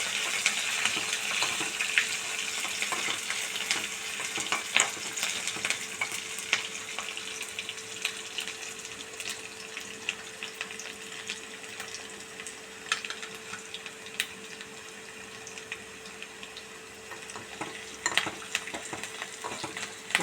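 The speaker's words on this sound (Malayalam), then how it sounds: "ഇതിലോട്ട് വെളുത്തുള്ളി അരിഞ്ഞത്, ഇഞ്ചി, പച്ചമുളക് അരിഞ്ഞത് ഇതും കൂടി ഇട്ട് നന്നായി ഇളക്കുക." Chopped garlic, ginger and green chili sizzle in hot oil for mango pickle, a continuous crackling fry with frequent scraping stirs and small pops throughout, close and without speech.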